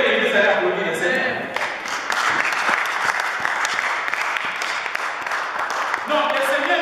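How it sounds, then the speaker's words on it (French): A church congregation breaks into loud, sustained applause, dense clapping filling the space steadily from start to finish. "Je crois que l'Église allait applaudir le Seigneur"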